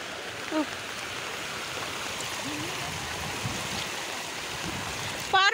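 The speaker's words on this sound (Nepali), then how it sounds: "एउटै हाम्रो खोलामा कति पानी आहा" A flooded village stream rushes past fields during heavy autumn rains, a constant loud broadband roar of water with brief voices breaking through at moments.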